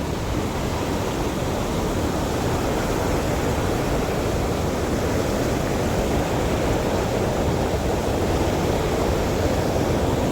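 Powerful water pours through large openings at the base of a dam, a dense, unbroken roar that stays loud and steady throughout, with no voices heard.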